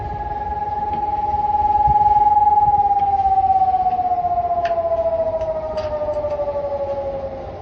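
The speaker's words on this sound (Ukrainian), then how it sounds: "тестують нову сирену." A new civil defense siren being tested in Kharkiv sounds one long, steady tone that slowly falls in pitch, loud and continuous over a low background hum, with no talking.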